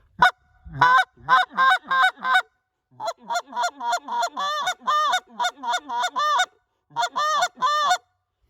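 A series of honking goose calls in quick rhythmic bursts, short clucks alternating with longer moaning notes, loud and close with brief pauses between groups.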